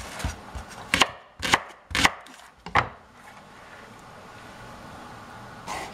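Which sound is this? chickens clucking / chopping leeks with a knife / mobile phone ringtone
chopping leeks with a knife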